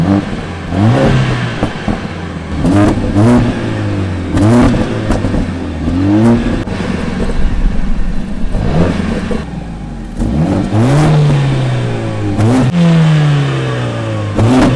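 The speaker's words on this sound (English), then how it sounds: "Shall we have a little listen to the different exhaust notes?" A Mercedes-AMG A45 revs hard over and over, its exhaust note rising in repeated loud, sweeping bursts with short pauses between, close and unaccompanied by any voice.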